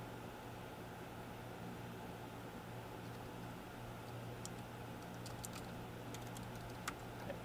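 Keystrokes on a computer keyboard, sparse and fairly faint, tapping irregularly over a steady hum of room noise and a low electrical drone, with a few sharper clicks near the end.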